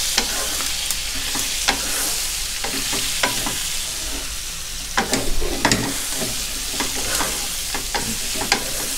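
Pork belly stir-fried mala style with vegetables and chili in a hot pan, a constant loud sizzle punctuated by repeated scraping and tossing strokes of a spatula, with no voices.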